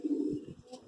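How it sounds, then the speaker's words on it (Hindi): A female Madrasi pigeon of the Kali Chitri type gives a short, low, throaty coo, close and alone. "ये बड़ी फेमस कबूतरी है काली चितरी"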